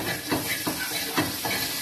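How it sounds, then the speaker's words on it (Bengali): Water hits a hot cooking pan with a steady, hissing sizzle. Soft stirring strokes scrape through it at a regular beat, roughly twice a second. "এখন আমি জল দিয়ে দেবো এটাতে।"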